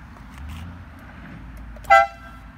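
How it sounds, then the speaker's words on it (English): A single short, bright air horn blast from a restored 1990 Miata sounds once near the end, loud and close, after a quiet stretch of low idling background. "That is their FIM air horn."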